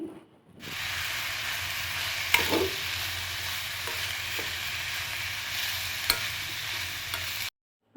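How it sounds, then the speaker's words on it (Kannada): Poppy seeds fry in a pan for tomato bath, producing a continuous close sizzle broken by a couple of sharp spoon taps against the pan, with no voices. "ನೆಕ್ಸ್ಟ್ ಇದಕ್ಕೆ ನಾನು ಒಂದು 1/2 ಟೇಬಲ್ ಸ್ಪೂನ್ ಆಗೋವಷ್ಟು ಗಸಗಸೆನ ಹಾಕ್ತಾಯಿದ್ದೀನಿ. ಇದು ಕೂಡ ಚೆನ್ನಾಗಿ ಫ್ರೈ ಆಗಲಿ."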